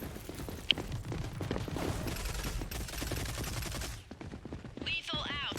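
Dense bursts of gunfire in the shooter game Rogue Company crackle and rattle steadily along with mechanical clatter, a brief ringing tone near the end as the firing tapers off.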